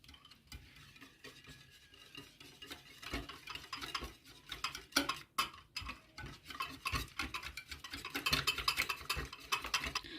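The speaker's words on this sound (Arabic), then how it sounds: "زبادي، بهارات. نبدأ نخلطهم مع بعض كده." Yogurt, lemon juice and spices are mixed in a bowl for a chicken panné marinade, with steady wet squelching and scraping strokes close by that grow busier and louder toward the end.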